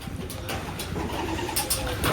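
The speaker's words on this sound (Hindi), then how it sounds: "हाँ दोनों कबूतर हैं।" Pigeons cooing at a goat farm, soft low repeated coos against a busy outdoor background with some faint engine-like hum, no talk.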